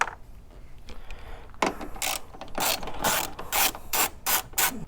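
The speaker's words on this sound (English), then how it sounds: "Next, we'll remove these 2 7mm nuts." Ratchet wrench backing off 7mm nuts on a Chevy/Pontiac/Buick headlight, a quiet start then a quick run of sharp clicking ratchet strokes in bursts, close and loud, no speech.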